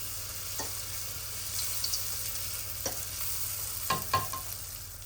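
Sfenj dough fries in oil in a deep fryer, a steady close sizzle and bubbling with a few sharper pops and splashes as pieces drop in, no voices.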